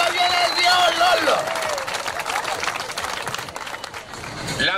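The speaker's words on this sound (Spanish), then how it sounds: "fuerte, fuerte el aplauso" A comedy show audience claps steadily in a broad wash of applause while a person speaks over it, loud and close.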